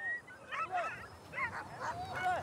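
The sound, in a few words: sled dogs barking in Kamchatka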